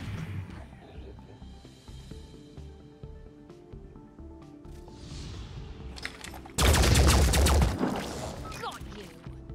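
Gunfire in the video game Phoenix Point: a loud, dense burst of shots lasting about two seconds erupts midway over quieter game ambience and scattered effects.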